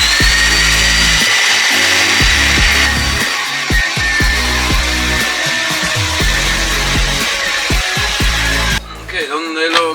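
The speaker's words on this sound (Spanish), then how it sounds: "Esta herramienta lo que hace es se corta el tubo con un hueco perfecto para que el otro tubo encaje" A hole saw on a tube notcher cuts a fish-mouth into steel tube while building a tubular car bumper, giving a loud continuous grinding, ringing metal whine with rhythmic chatter, stopping near the end as the tool winds down.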